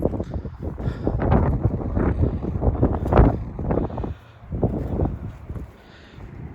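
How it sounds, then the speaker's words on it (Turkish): Gusty wind buffets the microphone outdoors beside a large rock, producing a continuous low rumbling roar that rises and falls, briefly easing near the end. "biraz rüzgar var. Bu rüzgardan dolayı sesim biraz pürüzlü gelirse kusura bakmayın."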